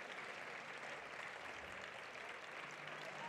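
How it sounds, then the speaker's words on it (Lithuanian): A crowd applauds at a standard and Latin dance championship after a seniors' quickstep, a faint, steady wash of clapping heard from a distance. "Eiliniai gausus plojimai."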